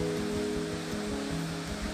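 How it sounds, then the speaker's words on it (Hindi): Water runs continuously from an open flush valve on a wall-hung toilet in a bathroom, a steady close rushing splash with a low gurgling rumble underneath, unbroken throughout. "पानी गिरता है और इसे बंद करने के बाद ही पानी गिरना बंद होता है"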